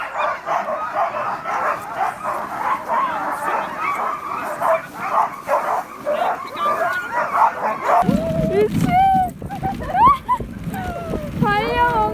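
Dogs in wintry Finnish Lapland bark loudly and close by in repeated bursts, then shift to high whimpers and yips over a deeper rumble. People talk throughout.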